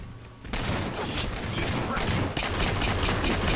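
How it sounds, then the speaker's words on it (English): Dense, continuous gunfire in Halo: The Master Chief Collection, with a pistol among a chaotic barrage of rapid, overlapping shots that sound close and loud and carry on without pause. "Alright, now it's on with the pistol."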